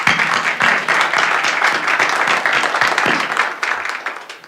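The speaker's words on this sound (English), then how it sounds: "Please give them another round of applause." Sustained round of applause from an audience at a business event, dense clapping spread evenly across the whole stretch with no talk over it.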